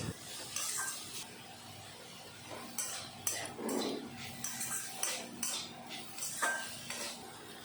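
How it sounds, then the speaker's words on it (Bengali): Chopped meat for spring rolls fries in a pan with a steady low hiss, broken by scattered clinks and scrapes of a utensil against the pan, fairly faint and without talk. "এখন মাংস আমি ভেজে নেব।"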